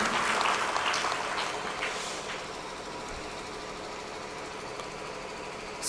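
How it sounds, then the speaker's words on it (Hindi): Audience applause at a devotional bhajan gathering in Farrukhabad, Uttar Pradesh, rising loud and dense in the first couple of seconds, then thinning into a softer, steady patter that continues to the end. "ताली बजाकर अभिनंदन कीजिए।"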